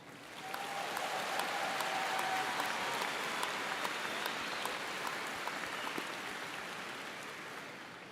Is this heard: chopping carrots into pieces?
no